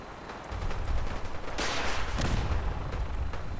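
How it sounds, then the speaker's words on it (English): Gunfire crackles through a Fallout 4 firefight, with scattered shots and bursts popping over a steady rumble and one louder volley near the middle. "Why is there so much shooting?"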